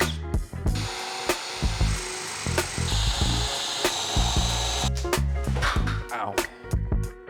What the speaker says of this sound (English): I need to drill 22mm holes with a spade bit in order for those pipes to go through